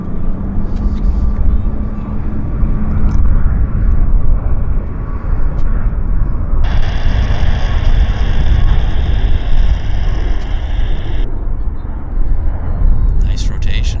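A heavy airliner takes off at Vancouver airport with a low, rumbling jet roar in the background, while voices and radio-like chatter run over it for most of the time.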